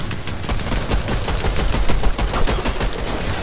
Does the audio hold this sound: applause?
no